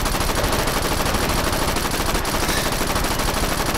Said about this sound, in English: Just shoot everywhere and just see what you hit.